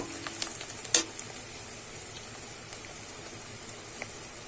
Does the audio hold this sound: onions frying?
yes